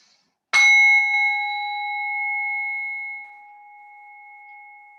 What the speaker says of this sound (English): I'll start us off again for a couple of minutes on this side with the sound of the bell